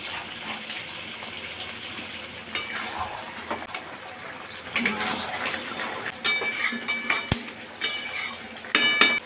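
Chicken pieces are mixed with sugar and spices in a bowl, producing wet squelching and sloshing with scattered sharp clinks in irregular bursts that grow busier toward the end.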